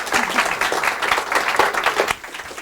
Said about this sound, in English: give a great round of applause to Phil.